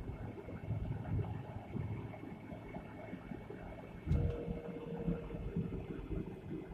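2008.5 Jeep Grand Cherokee WK driveline noise while driving, a faint steady low drone and hum inside the cabin mixed with road and wind rumble, holding on after the throttle is lifted.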